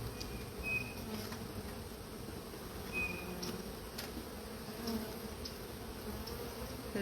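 Honey bees drone in a steady, faint buzz from a hive getting ready to swarm, with a few brief higher whines from single bees passing close and no voices.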